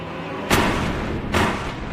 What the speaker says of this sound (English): hearing what she believes to be gunshots